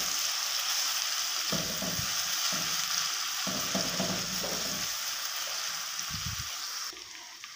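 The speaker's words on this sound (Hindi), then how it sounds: "साथ ही हम इसमें डालेंगे अदरक लहसुन पेस्ट, इसको हल्का सा हम ब्राउन करेंगे" Ginger garlic paste fries in a pan, giving a continuous bright sizzle with a few stirring scrapes in the middle, fairly close and quiet, with no voices.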